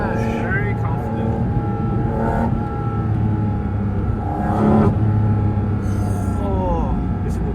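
Porsche GT4 RS engine pulling hard under acceleration, a loud, steady in-cabin drone with rising harmonic tones that shift pitch through the run, while someone speaks excitedly over it.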